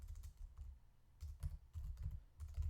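Quiet, close keystrokes tap out VBA code on a computer keyboard in irregular bursts of soft clicks with brief pauses between them.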